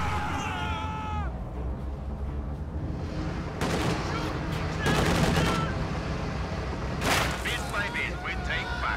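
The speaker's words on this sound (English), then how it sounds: "Incendiary artillery being dropped." Incendiary artillery falls in a strategy video game as several heavy, crackling bursts of explosions over a constant rumbling battlefield bed, with commentary talk running underneath.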